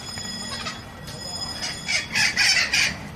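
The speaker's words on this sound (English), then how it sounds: "here's who was making all that noise earlier. We've got some sort of psittaciform bird here" Parrots at Sacramento Zoo give loud, harsh squawking calls in several close bursts toward the end, over steady background noise, with no one talking.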